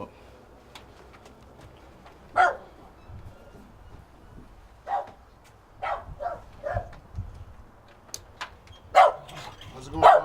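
A dog barks in short, sharp bursts at irregular intervals, several separate barks at moderate distance, with people talking around it.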